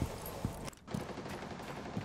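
Gunfire in Rainbow Six Siege, a few muffled distant shots spaced apart amid a low background rumble, faint and with a brief quiet gap in the middle.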